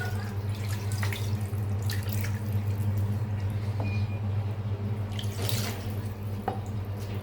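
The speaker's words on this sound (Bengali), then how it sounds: "এখন ভালো করে পানি দিয়ে দেবো" Water is poured into a pot of masoor lentils with bay leaves on a village stove, a continuous splashing stream running for several seconds over a low background hum, with no talking.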